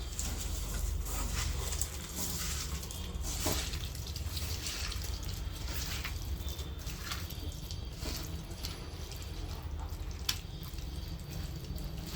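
Soft wet squishing and dripping of hands squeezing soaked tamarind in water, close and steady, with small splashes.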